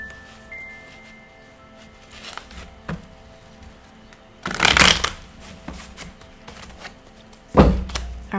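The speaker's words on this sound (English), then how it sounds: "2 more shuffles." Tarot cards are handled quietly, with two louder bursts of riffle shuffling standing out against a soft background hum, and no talk.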